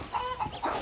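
A rooster companion in Far Cry 6 gives a short burst of clucking calls, close and moderately loud, over a steady game background.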